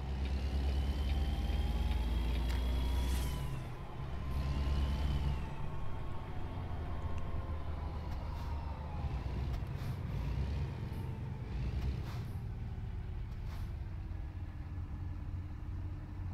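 A Kenworth T800 truck engine in American Truck Simulator rumbles low and steady, its pitch rising and falling through gear changes, with a hiss like an air brake.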